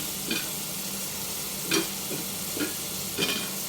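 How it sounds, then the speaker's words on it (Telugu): Chicken pieces coated in ginger-garlic paste fry in a pan, giving a steady sizzle broken by a few sharp scrapes and stirs at irregular intervals, close and moderately loud, with no talking. "దీన్ని బాగా కలుపుకుని ఎర్రగా వేయించుకోవాలి ఫ్రెండ్స్"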